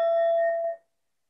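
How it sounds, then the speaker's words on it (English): A meditation teacher's bell rings once, a clear sustained metallic tone with bright overtones that decays and fades out within about a second, heard alone. "Instead of a whistle, I have my bell"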